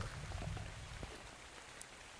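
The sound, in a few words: rain falling in the video game ARK: Survival Evolved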